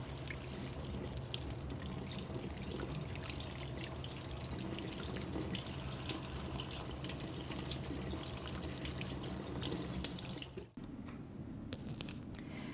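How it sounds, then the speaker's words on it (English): Cold tap water runs steadily over whole lettuce leaves in a sink, a continuous soft hiss and splash that briefly falters near the end before carrying on at a low, even level. "Wash whole leaves as well as you can under cold running water."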